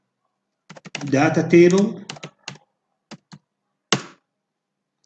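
Computer keyboard typing in short bursts of sharp clicks, spaced out after a stretch of speech, close and moderately loud, for a data-table search during an ICT lesson.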